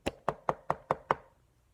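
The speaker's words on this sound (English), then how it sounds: "She knocked on the door." Six even knocks on a wooden door, sharp and evenly spaced, fairly close and clear, with nothing else around them.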